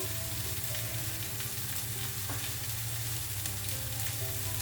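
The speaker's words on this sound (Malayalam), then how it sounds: "ഈ വശത്ത് ഇച്ചിരി അര ടീസ്പൂൺ നല്ല ജീരകവും 1 ടീസ്പൂൺ കടുക്," Cumin and mustard seeds sizzle in hot oil in a pan, a close, steady frying hiss with light crackles and occasional stirring, with no voices.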